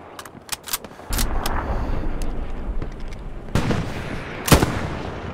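Gunfire in the shooter Hell Let Loose: scattered sharp shots and rumbling blasts over a constant background roar, with a loud crack near the end.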